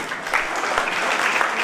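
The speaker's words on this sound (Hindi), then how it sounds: "उनके सम्मान के लिए एक बार तालियां बजाएंगे।" Brief burst of audience applause honouring a guest at an Arya youth council foundation day gathering, thick steady clapping from a crowd.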